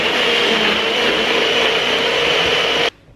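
A blender whirs steadily at high speed mixing a cashew milk smoothie with cashew nut butter and cinnamon, a loud continuous motor drone that stops abruptly near the end.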